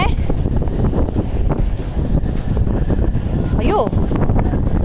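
Strong gusts of wind roar and buffet the microphone continuously, with a rushing wet texture that fits wind-driven rain; a voice is briefly heard.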